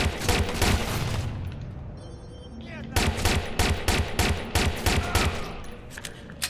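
Rapid bursts of automatic gunfire rattle through a Watch Dogs 2 firefight, loud and dense volleys with a brief lull in the middle before the shooting resumes.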